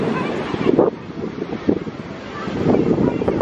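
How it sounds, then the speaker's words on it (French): Sea waves washing onto a beach in Barcelona, a steady broadband rush of surf mixed with gusty wind buffeting the microphone, with a few louder swells rising and falling over a few seconds. "On écoute le son des vagues et tout, un peu relax."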